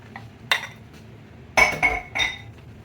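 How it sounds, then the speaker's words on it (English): A cracked egg being mixed in a bowl for stuffed shrimp, a few sharp clinks of a utensil against the bowl separated by short pauses, close and clear, no talking. "You want to crack your egg. And just mix that up."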